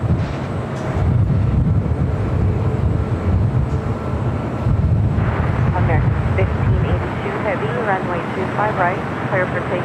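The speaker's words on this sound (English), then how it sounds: "The 787-9 Dreamliner is the next heavy takeoff on 25 right." An American Airlines Boeing 787-9 Dreamliner takes off from runway 25 right at LAX, a loud steady roar of heavy jet engines while someone talks over it and radio chatter joins in.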